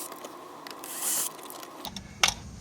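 Screws come out of the dash cubby trim of a 9th generation Honda Accord with faint ratcheting driver clicks and small mechanical rattles, close up and quiet, ending in a short sharp tap.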